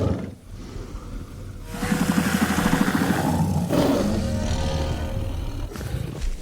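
Dinosaur roar in the video game Jurassic World Evolution 2, a deep, drawn-out bellow with a rumbling tremolo, rising and sustained for several seconds, loud and close with no talk over it.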